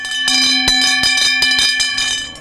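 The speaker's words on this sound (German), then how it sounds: "Der Oberkessler hat seine wunderschöne Oberkessler-Glocke." A large hand bell rings hard and fast at the Solothurn Chesslete carnival, its clanging strokes loud, close and continuous with a metallic ringing overtone throughout.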